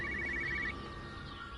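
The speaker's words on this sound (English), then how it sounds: "Looks like a phone." A telephone rings in Everybody's Gone to the Rapture, a single steady electronic ringing burst that stops abruptly, with quiet ambient game sound continuing afterward.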